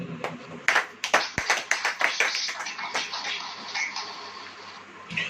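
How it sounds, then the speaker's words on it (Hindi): An audience at a church sermon claps in a burst of sharp, rhythmic hand claps that starts after a moment of quiet, then thins into softer scattered applause. "ताली हो जाओ।"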